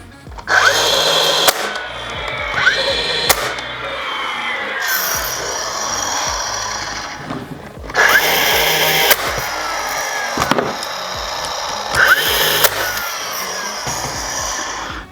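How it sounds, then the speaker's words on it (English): A battery-powered cordless brad nailer drives 2-inch brad nails into wood, giving a few sharp, loud mechanical bursts at uneven intervals with quieter gaps between them. No one speaks. "I have a cordless brad nailer here. This is with 2-inch brad nails."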